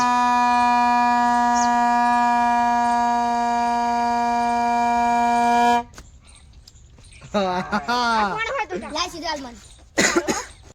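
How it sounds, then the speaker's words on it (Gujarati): A homemade horn blares one long, loud, steady tone for about six seconds, then cuts off, after which people talk and laugh close by. "તો ગાઈસ આપણો હોર્ન બની રેડી થઈ ગયો છે તમે જોયો"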